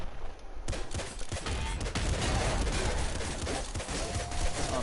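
Dense, sustained gunfire from Nuclear Throne pours out in a rapid, unbroken barrage, loud and continuous with no speech.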